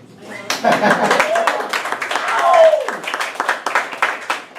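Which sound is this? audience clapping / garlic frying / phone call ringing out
audience clapping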